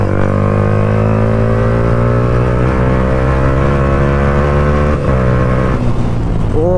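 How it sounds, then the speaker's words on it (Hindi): A Yamaha R15 V3 motorcycle revs hard and pulls away close to the microphone, its engine note climbing steadily in pitch with a brief gear-change dip near the end, loud and alone. "तो चलो थोड़ी बाइक खींच के देखते हैं।"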